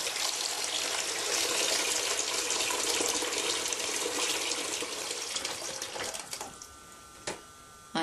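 Tap water gushes steadily into a sink during handwashing, a loud broadband rush that continues for several seconds before thinning out near the end, with no voices.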